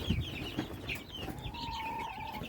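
Backyard chickens and young chicks, about one to four weeks old, cluck and peep continuously at close range, with soft, irregular calls and a sustained higher chirp toward the end.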